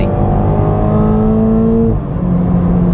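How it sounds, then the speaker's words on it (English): A 2022 Toyota Supra 2.0 in sport mode launches at full throttle, its engine roaring loudly up through the revs in one sustained pull, then a brief dip as it shifts and climbs again, heard from inside the car. "If we mash the throttle, let's see what happens."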